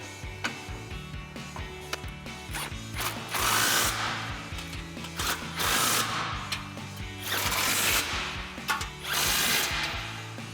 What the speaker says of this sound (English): we're going to tighten our hardware down using our 18mm socket on our impact and an 18mm wrench